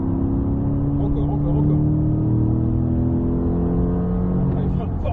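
A race car at full throttle on a circuit gives a loud, steady, continuous engine roar with sustained harmonic drone from close range inside the car.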